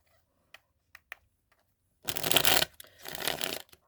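Tarot cards being shuffled by hand: a few faint taps first, then two dense, close riffling bursts of card shuffling, loud and crisp with a short pause between them.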